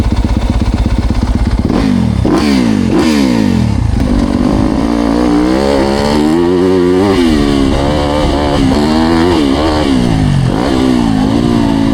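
A Yamaha YZ250F dirt bike engine runs loud and close, revving up and down in repeated throttle blips with a choppy four-stroke bark and some mechanical clatter, no talking over it.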